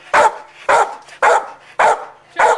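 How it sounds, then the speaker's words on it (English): A dog from a bully-breed rescue barks five times in a steady, evenly spaced rhythm, each bark loud, close and sharp, with no talk. "You want somebody that doesn't mind a barking dog?"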